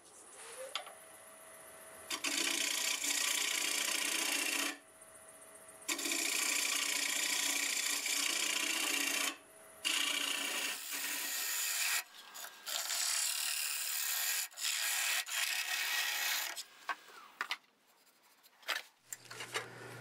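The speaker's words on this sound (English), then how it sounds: "I'll go ahead and use my little hollowing tool just to do that." A hollowing tool cutting into a London plane bowl spinning on a wood lathe, loud broadband scraping in long bursts with short pauses as the tool is lifted and re-engaged.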